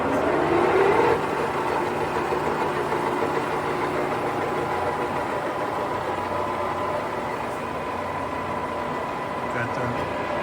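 Engine lathe (31 x 60 inch Lion Model C13 gap bed) running while threading on the half nut, a continuous mechanical hum and rattle with steady tonal whine, loud and close, with someone speaking over it.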